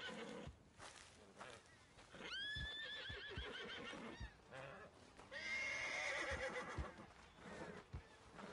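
A horse whinnies twice in shrill, wavering bursts, with hoof clops and other ambient game sounds around it, in the video game Red Dead Redemption 2.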